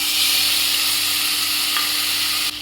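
Onions and tomatoes fry for mutton dum biryani, a dense steady sizzle of hot oil running close and loud, with a brief faint tap near the end.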